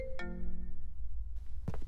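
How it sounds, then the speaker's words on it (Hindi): A phone ringtone sounds once indoors, a clear bright tone that rings out and fades, followed by a short rustle. "नित्या का फोन"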